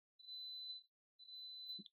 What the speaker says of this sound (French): Ça, c'est le robot, le bip bip.